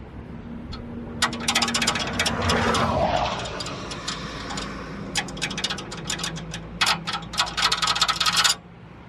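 Metallic clicks and rattles from a loose suspension spring retainer jangle irregularly over a steady engine drone, some bursts dense and clattering, others sparse, heard up close.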